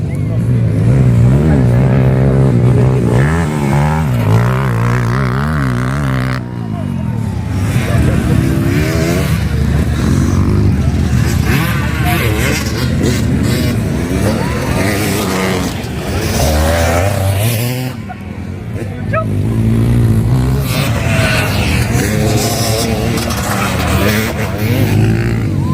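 Enduro motorcycles race at a super enduro championship in Asingan, their engines loud and close, revving and surging continuously with shifting pitch as bikes accelerate and pass, with brief dips between runs.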